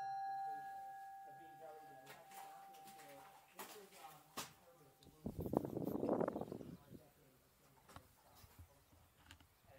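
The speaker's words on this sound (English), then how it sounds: "I'm gonna ring the bell." A bell at Bent's Old Fort, a historic site in Colorado, struck once outdoors, its clear tone lingering for a couple of seconds. A few scattered clanks and a burst of rustling noise follow.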